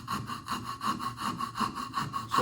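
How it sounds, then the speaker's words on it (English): A hand coping saw cuts through a block of wood to rough out a carved spectacled eider drake decoy head. The close, rhythmic rasp comes in even back-and-forth strokes, about four per second. "This will take longer with the coping saw"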